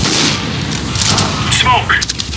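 A grenade going off in Counter-Strike, a heavy boom with crackling debris ringing out over continuous background game noise, while a voice talks alongside.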